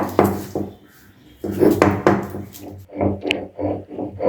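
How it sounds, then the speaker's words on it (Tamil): Paste being ground by hand on a traditional ammi stone for a mango chicken dish, a series of rough scraping strokes in a steady back-and-forth rhythm, close up and moderately loud with short pauses between them. "எப்போவுமே நம்ம அரைக்கிற மாதிரி அம்மியில் வச்சு தான் அரைச்சி எடுத்துக்க போகிறோம்"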